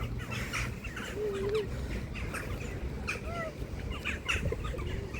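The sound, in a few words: birds calling, crows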